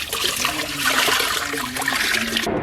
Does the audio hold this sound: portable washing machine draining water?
yes